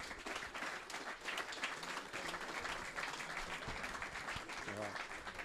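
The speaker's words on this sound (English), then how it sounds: "Round of applause." An audience at an evening event gives a round of applause after a prize is handed out, steady clapping at moderate distance with voices murmuring underneath.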